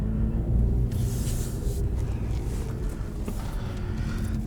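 A 2012 Lotus Evora IPS with the Lotus Sports exhaust gives a deep, rumbling engine note from the cabin while driving on a twisty road, loud and steady with a slight swell at the start.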